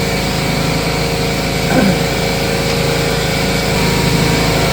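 Air compressor running in a shop during a Dodge D100 ladder bar install, a steady loud motor drone with a constant hum, alone without talk.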